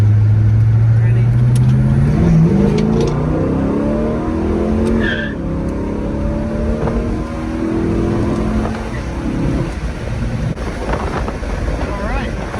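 A Pontiac V8 with a water pump problem revs hard under load as the car accelerates, a loud low engine drone rising in pitch over the first seconds, then holding a steady roar mixed with road and wind noise.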